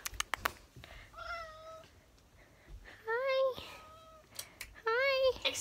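An angry cat gives several drawn-out, wavering meows, one early and two louder ones later, with soft clicks and handling noises in between.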